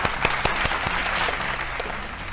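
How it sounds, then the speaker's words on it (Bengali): A studio audience breaks into a steady burst of applause on a Bengali family game show, many hands clapping at once with a few sharper claps standing out near the start. "সবাই জোরে হাততালি।"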